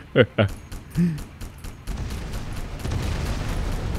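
Several loud booms and bursts of explosions in the video game Crysis Warhead in quick succession, followed by a rumbling, crackling roar that continues to the end.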